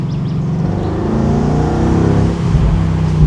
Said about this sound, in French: Les turbos soufflent dès le début.